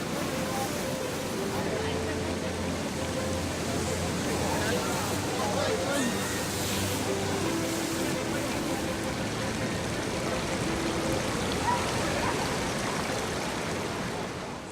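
Steady broadband rush of fast-flowing stream water through a city park, continuous and fairly loud for the whole stretch, with faint distant voices and a low hum blended underneath.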